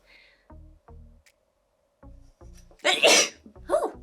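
Several halting breaths build up, then one loud, close sneeze bursts out, followed by a brief shorter sneeze-like exhale.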